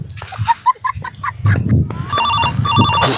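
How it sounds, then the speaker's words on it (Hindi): A phone ringtone chimes in a repeating electronic pattern, starting after a few short tonal bursts, with some background noise throughout. "फिर फोन आ गया यार"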